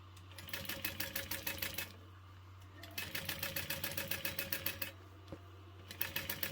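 A sewing machine top stitches through folded vinyl on a beauty bag, running in three fast bursts of rapid, even needle clatter separated by short pauses, close but fairly quiet over a low hum.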